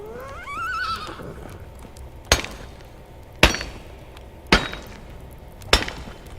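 A horse whinnies in the medieval video game Medieval Dynasty, one high, wavering neigh at the start, followed by four sharp, evenly spaced hammer-like knocks.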